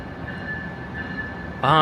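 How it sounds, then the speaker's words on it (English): A commuter train rumbles and rolls steadily into New Rochelle station with a faint high whine, then a louder burst of mechanical noise at the end, with a voice nearby. "This is really great that the train is pulling in the station right now."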